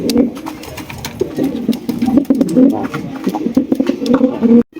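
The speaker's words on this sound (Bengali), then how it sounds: "কোয়ালিটি ফুল বোখারা কবুতর" Bokhara pigeons coo repeatedly nearby in low, throaty, rolling calls, overlapping and continuous, with faint background noise.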